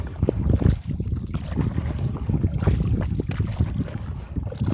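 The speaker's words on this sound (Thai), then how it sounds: "ลมแรงมากเลยนะ" Strong wind gusts out at sea on a small boat while crab traps are set, a loud, rough buffeting rush against the microphone with some water slosh underneath, no one speaking.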